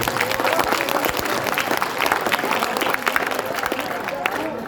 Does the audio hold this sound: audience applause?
yes